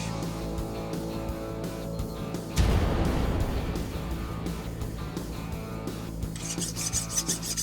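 A sudden burst of hissing and bubbling erupts as a hot forged blade is plunged into quenching liquid, then settles into a continuing seethe and crackle.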